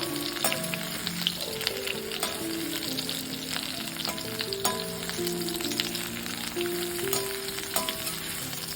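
Bitter gourd sautéing in a pan for a crispy fry, with a constant close sizzle and regular spatula clicks and scrapes, over a soft melodic tune in the background.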